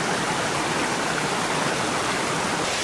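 A small mountain brook in the High Tatras runs under a wooden footbridge on an uphill hiking trail, giving a loud, steady rush of water that fills the whole stretch with no voices.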